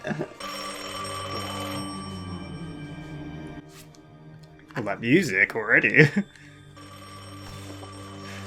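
A telephone bell rings repeatedly in a TV drama scene, its trilling bursts heard over background music, with people talking during and between the rings.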